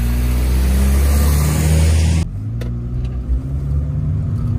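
A pickup truck pulls away from a dead stop, its engine roaring loud and steady for about two seconds before the sound drops abruptly to a quieter, lower rumble with a few faint clicks, and no one speaks.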